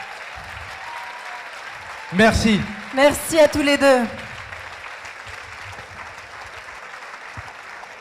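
An audience at an evening French event applauds a guest in two short, loud bursts of clapping over a murmuring room, while someone speaks briefly between and around the applause.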